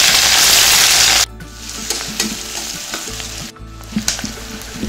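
Onions sautéing in hot oil for a sweet corn biryani, with a loud steady sizzle that drops suddenly as the onions go in, then continues as a softer frying crackle with scattered stirring scrapes.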